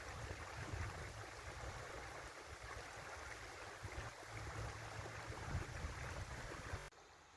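Steady broadband rush of stream water flowing along the Pennine Way between East Marton and Malham, continuous and fairly close with no voices, cutting off abruptly near the end to a quieter background.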